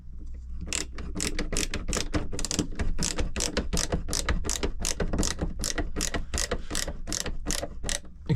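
A ratchet drives screws into a new skylight being fitted to a crash-damaged motorhome, giving a steady run of about twenty crisp, close mechanical clicks over a low background hum, with no talking.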